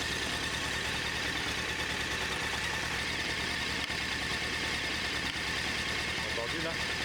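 A Honda Hornet motorcycle engine idles steadily and close by, with a constant loud drone; an intermittent knock is said to occur, though no distinct knocks stand out.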